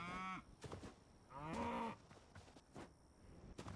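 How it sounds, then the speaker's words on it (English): Cows moo in the video game Hytale, two fairly close drawn-out lowing calls separated by a short pause, with no talk over them. "Hi, cows. What are y'all doing up here?"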